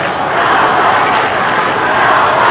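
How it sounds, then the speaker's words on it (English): Melbourne supporters cheering at a 1993 AFL football match against Adelaide, a dense, loud, sustained roar from a large crowd. "And Melbourne supporters are cheering them on here."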